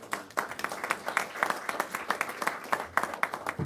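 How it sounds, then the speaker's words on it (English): A crowd applauds steadily, scattered claps blending into a sustained round of applause with a few louder bursts. "So let's give a round of applause to Mayor Adams."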